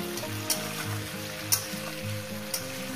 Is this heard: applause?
no